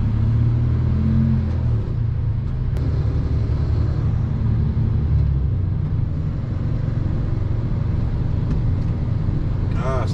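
A car pulls away and accelerates on a road through Trets, its engine a loud continuous rumble that rises steadily under cabin noise, with no clear talk.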